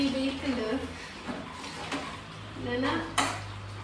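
A utensil scrapes and clinks against a metal pan in uneven strokes, stirring Mangalore-style chicken sukka, while someone talks nearby.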